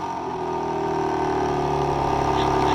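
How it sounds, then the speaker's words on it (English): A 2024 BMW M3 Competition's quad-tip dual exhaust rumbles at a steady idle after remote start, a continuous low, even drone with no revving, close and fairly loud. "the quad tip dual exhaust, which we can start up remotely"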